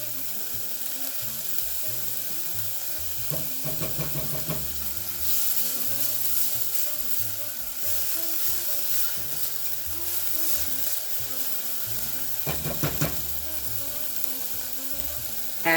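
Minced garlic and vegetable base sizzle steadily in a hot pan for a black bean burrito, a constant close frying hiss with brief bursts of stirring clatter, no talking.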